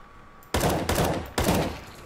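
A decoy grenade in the video game CS:GO imitating gunfire, giving three sharp bursts of fake shots with short gaps between them, fairly close against a quiet background hum.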